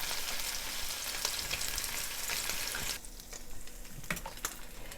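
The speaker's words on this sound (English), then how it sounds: "I love that sizzle sound" Slices of Spam sizzle steadily in a frying pan, a dense crackling hiss with scattered pops that thins out partway through, no talking.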